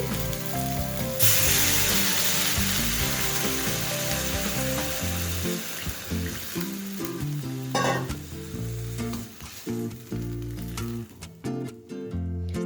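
Water poured into a pan of browned eggplant and softened tomato bursts into a loud, close sizzle that settles into steady frying, with clinks and scraping of stirring as it fades toward the end.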